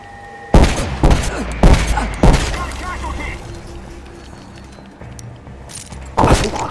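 Gunfire in a tense first-person shooter game: several sharp, loud bursts of shots spaced a second or so apart, with rumbling game ambience between them and a final burst at the end.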